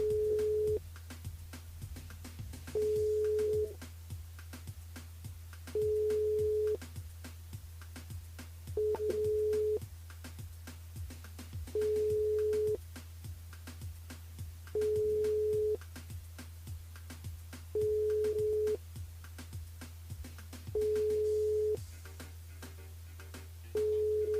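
A telephone rings unanswered during a live radio call-in show, a steady tone repeating in regular bursts about every three seconds over a quiet background, with no one picking up.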